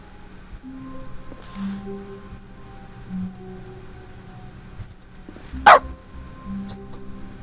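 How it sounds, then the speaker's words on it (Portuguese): A single loud dog bark bursts out in The Stanley Parable, standing out sharply against a quiet game backdrop with soft tones and low hum. "Não é que lá tinha um cachorro mesmo?"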